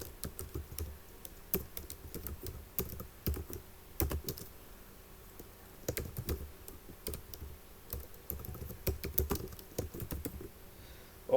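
Computer keyboard keys tapped in quick irregular bursts while comments are written into a C program for a triangle's area; close, crisp clicks with no voices.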